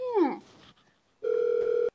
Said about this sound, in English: Number is ringing.